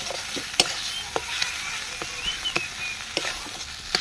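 Onion, ginger and garlic paste fries in a pan for an egg biryani gravy, a steady close sizzle punctuated by repeated clicking scrapes of a spatula, with no talking.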